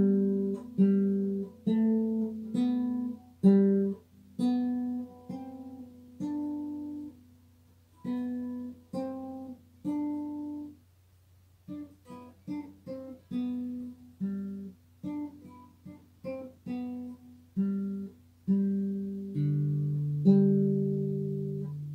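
Guitar picks out the melody of the nursery song "Are You Sleeping?" on the four highest strings, single plucked notes in a steady, moderate rhythm, clear and close with no voice.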